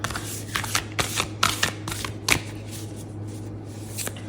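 A large tarot deck of thick card stock is shuffled by hand, giving a series of sharp riffling bursts and slaps that thin out toward the end.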